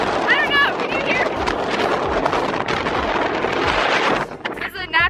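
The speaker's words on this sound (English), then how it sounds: "This is a natural wind source." Loud, rumbling wind blasts across the mic almost nonstop, easing briefly near the end as voices break through the gusts.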